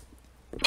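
A single short sneeze bursts out at the very end after near silence, close and sharp, from a person playing Fortnite.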